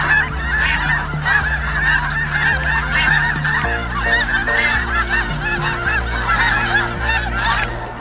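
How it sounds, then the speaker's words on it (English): Tens of thousands of snow geese gathered near Delta, Utah, raise a loud, constant chorus of overlapping honks and calls. Steady low tones sound underneath, and the racket barely lets up for the whole stretch. "The snow geese the sound is amazing."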